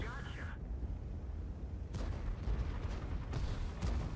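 A heavy IS-7 tank cannon shot booms in a World of Tanks–style battle replay, followed by further distant blasts over a low rumbling background.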